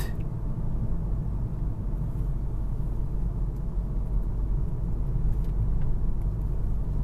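Volkswagen Golf R Mk7.5 with a tuned DSG gearbox pulling through third and fourth gear, a steady low engine and road rumble heard from inside the cabin, continuous and fairly loud, with no distinct shift thumps standing out.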